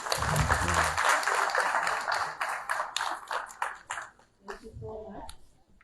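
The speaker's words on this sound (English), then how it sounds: "Please keep clapping." Sustained clapping from a crowd at a public health school orientation, dense and loud at first, then thinning into scattered claps with a voice starting to speak near the end.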